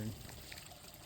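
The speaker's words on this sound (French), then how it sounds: "C'est reposant avec le petit ruisseau là qui coule" A small stream flows through a forest along a hiking trail, a soft steady trickle of running water heard faintly throughout, with a brief voice or thud at the start.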